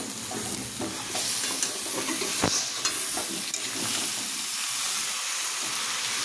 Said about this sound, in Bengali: এবার মাংসগুলো ঢেলে দেওয়া হলো।